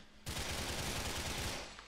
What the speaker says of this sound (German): wo kommen diese Schüsse her?